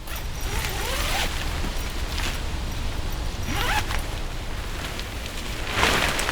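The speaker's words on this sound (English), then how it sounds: "I need to start by joining these together by the zips and the Velcro" Zips and Velcro fastening two rain ponchos together outdoors, giving repeated rasping, tearing pulls close up over a steady hiss of wind or rain.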